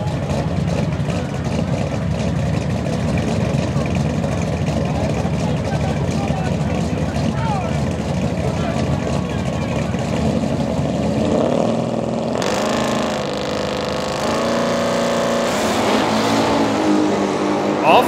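Heads-up drag race cars at a big list-versus-list shootout launching off the line, a loud sustained engine roar that rises in pitch as they pull away, with a commentator talking over it.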